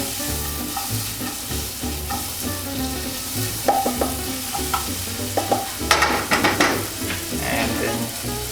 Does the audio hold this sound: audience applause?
no